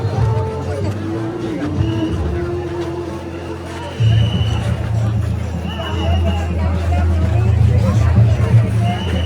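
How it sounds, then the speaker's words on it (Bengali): A dense crowd murmurs and chatters all around at the Sreebhumi Durga Puja pandal in Kolkata on Mahalaya night, a steady, loud hubbub of many voices that swells slightly partway through. "এটা হচ্ছে ভিড়।"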